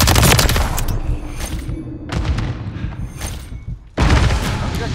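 Explosions and heavy gunfire in Call of Duty Modern Warfare 3 multiplayer: dense loud bursts of rifle fire with booming blasts, a brief lull around the middle, then another sharp explosive burst near the end.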